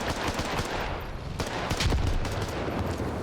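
Gunfire in the military shooter game Squad: rapid bursts of automatic weapon fire with a few heavier cracks, dense and fairly loud, no speech.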